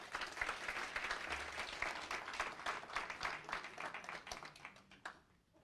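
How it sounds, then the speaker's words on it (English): Applause from a crowd, dense clapping that holds steady for several seconds and then fades out at the end. "Let's give it a round of applause."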